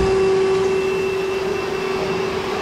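A vacuum cleaner runs steadily close by, sucking up spilled OxiClean powder in a home, giving a loud, continuous whine with a strong tonal hum throughout and no voices.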